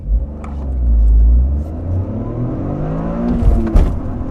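A Toyota GR Corolla accelerating hard from a standstill in a 0-60 run, the engine roaring as it climbs through gears, with a quick shift break and tire or wind noise rising, heard loud from inside the car.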